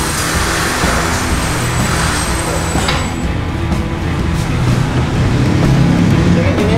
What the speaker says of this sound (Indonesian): Sekarang mobil ini lari di atas 140 km per jam enak banget